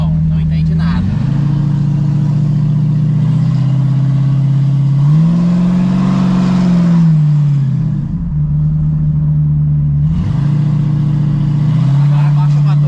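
A Chevette fitted with a V8 engine revs up and down in a loud, steady rumble, the pitch rising and dipping with throttle blips for most of the span, while people talk over it nearby.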